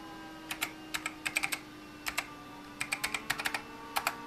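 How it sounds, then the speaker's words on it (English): Crisp, clacky keystrokes on a mechanical keyboard, typed in short irregular bursts with brief pauses between them, close and fairly quiet. "Yes, mechanical keyboard."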